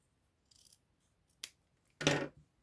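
Scissors snip through excess fabric at the top of a trouser zip in three short, crisp cuts, close and otherwise quiet, the last cut the loudest.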